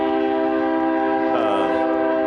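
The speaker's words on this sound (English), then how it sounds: "I mean, there's another train." A long freight train in Texas sounds its horn, a loud sustained multi-tone chord that holds steady throughout, close and alone without speech.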